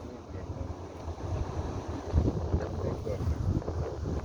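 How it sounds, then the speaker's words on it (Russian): Wind blows steadily across an open river on a cold day where a small boat drifts without its motor, a continuous low rumble of gusting air and microphone buffeting with faint water movement, with voices talking now and then. "Да, ветром просто несет."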